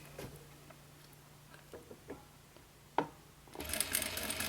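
A sewing machine under foot control gives a few scattered ticks and clicks, then whirs into a fast, close stitching run near the end.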